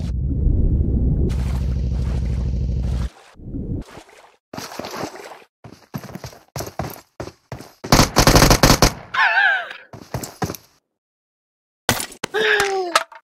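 Gunfire in the BGMI battle royale game, a steady dense burst for the opening seconds followed by scattered sharp shots and short volleys, with gaps of quiet and some whooshing game effects.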